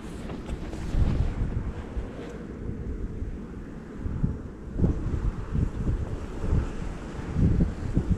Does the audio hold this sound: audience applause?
no